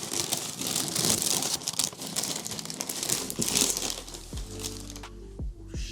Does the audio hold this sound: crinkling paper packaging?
yes